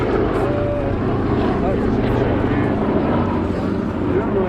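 B-17 bomber Sally B making a final low pass at an airshow, a droning multi-engine propeller rumble held steadily under a commentator's voice.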